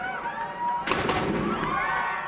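A single sharp blast from the starting cannon at the New York City Marathon start, a sudden loud bang that rolls into a reverberating boom over open air and faint crowd noise.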